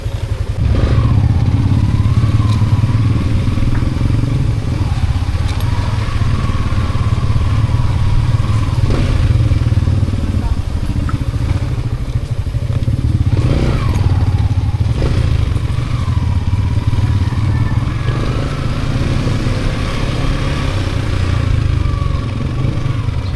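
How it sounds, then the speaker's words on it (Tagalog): A brand-new motorcycle engine runs steadily and loudly throughout, with a low rumbling idle and occasional clattering, no voices. "Bagong bago yung makina ni Dagi."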